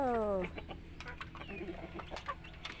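Native and Rhode Island chickens cluck and chirp in a coop, several short calls scattered over a faint background, with a brief rising tone at the start.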